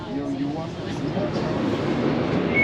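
A Docklands Light Railway B23 train pulls into London City Airport station, its low rumble and motor whine building gradually, with voices talking nearby.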